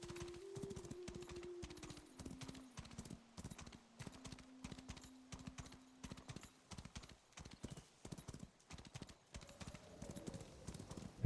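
Horse hooves gallop in the video game Where Winds Meet, a steady rapid clip-clop rhythm running throughout, fairly close, with a faint tonal game sound underneath.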